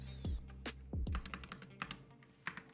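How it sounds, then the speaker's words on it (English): Computer keyboard typing during a coding session, a short run of crisp, close keystrokes with uneven rhythm and a few heavier thumps, no talking. "What's going on with my typing?"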